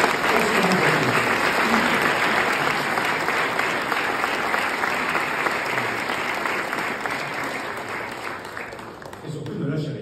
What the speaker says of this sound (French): je voudrais, si vous permettez, qu'on vous applaudisse